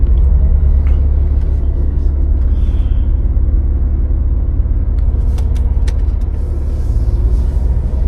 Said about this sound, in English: So let's have a drive into this place.